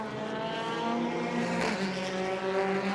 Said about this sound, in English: the safety car turns its way through Paddock Hill Bend